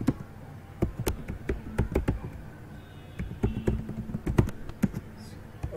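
Someone types on a computer keyboard, a quick irregular run of crisp key taps with short pauses, close and clear, with no talk over it.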